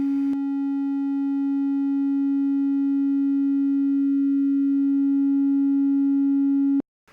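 A steady sine wave tone from a Cherry Audio Memorymode synth, an emulation of the Memorymoog, holds one loud pitch for about six seconds and then cuts off sharply.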